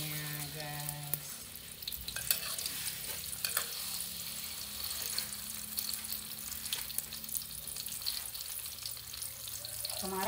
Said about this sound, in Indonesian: Kita tumis bumbunya guys.